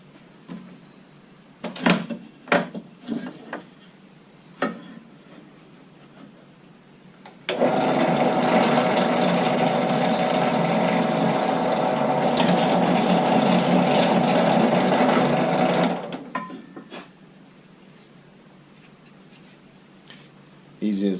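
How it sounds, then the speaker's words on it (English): A drill press with a 1/4 inch bit bores a hole through a Kydex sheet in a wallet-making shop, a loud steady whirring grind lasting about eight seconds, framed by brief clicks and handling knocks before and after. "over at the drill press is I'm going to take a 1/4 inch bit and I'm going to drill right on that dot right there"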